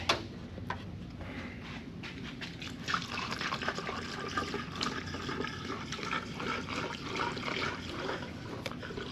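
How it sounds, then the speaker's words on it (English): Water poured into a street stock Monte Carlo engine during an engine swap, a steady close trickling and splashing flow with irregular drips and small clinks, fairly quiet and continuous throughout. "start putting some water in this thing."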